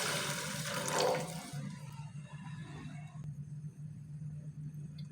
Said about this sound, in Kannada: ಹಾಗೆ 1 ಗ್ಲಾಸಷ್ಟು ನೀರು ಹಾಕ್ಕೊಳ್ತಾ ಇದ್ದೀನಿ